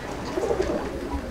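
Chennai breed pigeons in a loft give a short, low, murmuring coo close by, with no voices.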